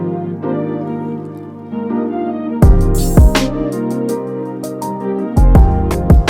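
A looping beat plays a steady chord pad, then heavy drums drop in with punchy hits as piano chords join for a fuller chorus.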